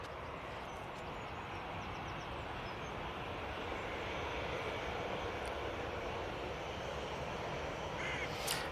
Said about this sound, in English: On final now, we have the Lufthansa A319 coming in from Frankfurt.